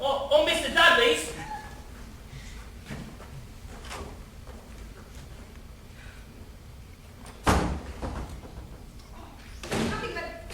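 On stage during a performance of the farce Noises Off, a door slams once with a heavy thud midway, surrounded by actors' voices and other smaller knocks and movements.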